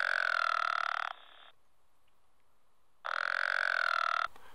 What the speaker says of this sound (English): The pickerel frog has a long, drawn-out, nasally snore for a sound.